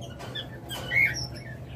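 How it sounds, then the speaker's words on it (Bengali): Red-eyed lutino Fischer's lovebird gives one short, shrill squawk amid faint background chatter of other caged birds. "দেখুন লাল চোখের পাখি"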